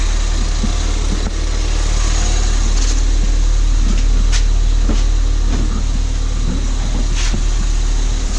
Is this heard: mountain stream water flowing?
no